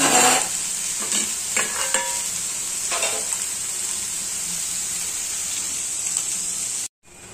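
Chopped onion frying in a pan for Kolhapuri misal makes a continuous bright sizzle, with a few spatula scrapes near the start, before the sound cuts off abruptly near the end.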